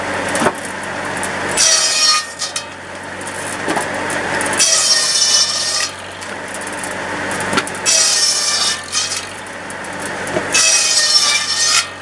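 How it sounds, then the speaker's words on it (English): A buzz saw driven by a Farmall H tractor cuts through sawmill wood slabs, loud rasping bursts of several seconds each repeating over a continuous engine drone, close and with no talking. "We're going to cut just a few of the slabs off the sawmill and just get rid of them"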